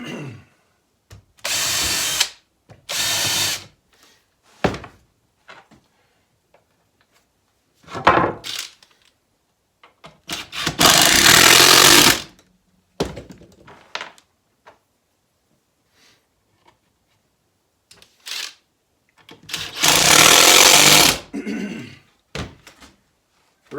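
Power drill pre-drilling holes in wood for planter boxes: several loud whirring bursts of one to two seconds each, separated by quiet stretches with small knocks and handling sounds.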